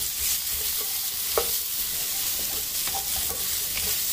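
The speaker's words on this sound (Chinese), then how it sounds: "这时候倒入蘑菇翻炒" Mushrooms stir-fry in a pan with golden garlic slices, a loud, constant hissing sizzle broken by a few light spatula scrapes and taps, close up with no voices.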